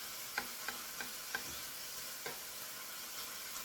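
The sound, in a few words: stirring bacon pieces frying in a pan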